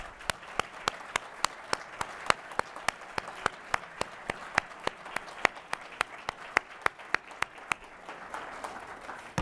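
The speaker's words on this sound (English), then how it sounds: "Please join me with a final round of applause for our honorees and our IFES" Sustained audience applause at the IFES 2018 Charles T. Manatt Democracy Awards, a steady, even stream of many hands clapping in a large room, lasting the whole stretch with a few sharper claps standing out.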